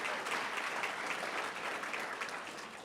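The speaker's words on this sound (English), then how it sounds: "Let's give her a round of applause." Faint, distant clapping from the crowd at a high school football awards ceremony, a steady round of applause lasting a few seconds.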